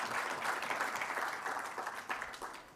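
Conference audience applause for delegates at an annual RIBA gathering in Rubavu, a full, dense patter of many hands clapping steadily and tapering slightly toward the end.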